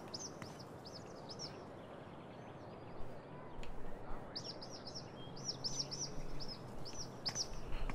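Repeated high, thin bird chirps in the video game Life is Strange True Colors come in short bursts over a soft outdoor ambience, fairly faint and spaced across the scene.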